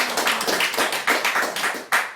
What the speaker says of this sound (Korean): 우리 주님께 찬양의 박수 올려드립시다.